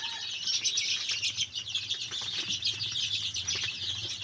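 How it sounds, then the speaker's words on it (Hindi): A brood of 22-day-old chicks, dozens of them, chirp constantly in a shed, a dense high cheeping chorus that runs without pause. "चिक्स माने बहुत एक्टिव अछन"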